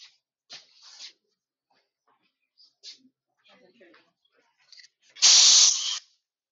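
An aerosol can sprays onto a metal conductor in a thermodynamics class demonstration, one loud hissing burst of about a second near the end, after scattered quiet rustles and clicks.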